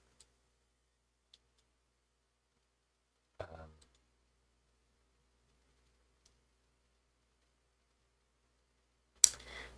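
A few sharp mouse clicks on a computer during card game development, isolated taps spread across near silence with one brief louder burst.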